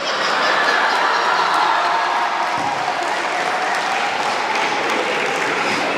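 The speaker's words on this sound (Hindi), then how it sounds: "तालियां बजाना" Applause from an audience at a Hindi poetry show (kavi sammelan), dense and steady for six seconds, with scattered chuckles from the crowd mixed in.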